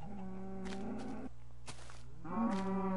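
Cows moo in a blocky Minecraft world, several drawn-out lowing calls one after another, close and clear with no talking over them.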